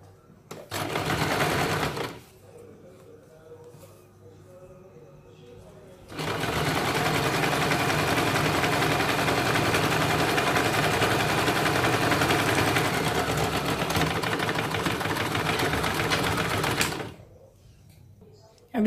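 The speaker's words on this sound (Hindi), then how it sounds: "अभी यहाँ पे हमें इसके ऊपर डबल सिलाई लगानी है।" An electric sewing machine runs in bursts, stitching a salwar seam: a short run, a pause with quieter handling, then a long steady rattling stretch before stopping, close and clear.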